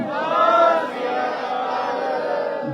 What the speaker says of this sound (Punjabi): ਮੇਰੇ ਨਾਲ ਜਕਾਰਾ ਲਾਣੇ ਜੋ ਬੋਲੇ ਸੋ ਨਿਹਾਲ